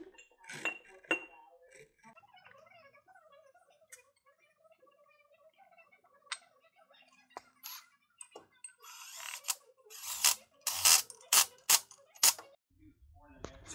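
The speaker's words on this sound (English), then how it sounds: "This is just a run-of-the-mill March Performance aluminum pulley." Aluminum March Performance pulley handled during a 1966 Ford F100 power steering conversion, faint clinks and metallic handling at first, then a run of sharp, louder metallic clicks and knocks near the end.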